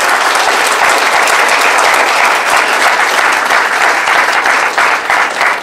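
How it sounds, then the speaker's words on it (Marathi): An audience at a memorial lecture event bursts into loud, sustained applause for two honoured women, a thick wash of clapping hands that holds steady across the whole stretch. "पुन्हा एकदा त्या तेंडुलकर आणि नार्वेकर मॅडमसाठी टाळ्या."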